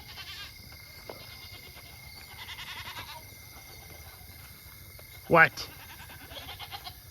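Goats on a farm bleating intermittently, with one loud, sharp bleat standing out near the end over quiet outdoor background and crickets, while a person briefly speaks.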